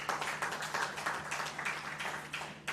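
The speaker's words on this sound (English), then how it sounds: "Let's give her a big hand clap." Audience applause at a human rights panel event on COVID-19 recovery, a steady wash of hand clapping with a faint background hum, moderately quiet and continuous throughout.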